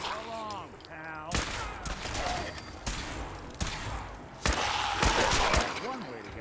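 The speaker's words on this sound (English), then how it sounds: "That was some good shooting, even if I say so myself." Gunfire in the video game Fallout 4: several sharp shots and bursts with echoing tails mixed with game ambience, while a person talks over the action.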